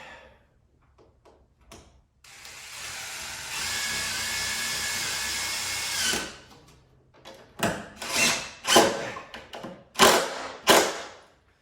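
Power drill driving a screw into a sash window during a replacement install: a sustained whirring burst, then several sharp knocking bursts as the screw seats, with no talk.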